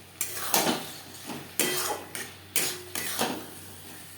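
Boiled potatoes being stirred into fried spices in a pan for a Bengali mochar ghonto, with a spoon scraping and clinking against the pan in about six distinct near bursts, loud and with no talk.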